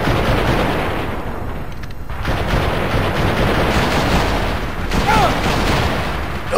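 Rapid gunfire from a Gatling gun in the PS2 game Gun, a dense, continuous stream of shots at steady loudness with a brief lull midway, over game noise.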